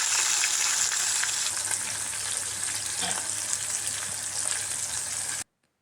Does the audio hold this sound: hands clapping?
no